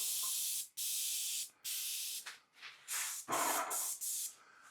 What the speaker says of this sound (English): we want to get 2 layers of white paint on this